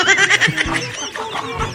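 A family of chickens clucks close by in a steady, overlapping chatter of short calls that carries through the whole stretch.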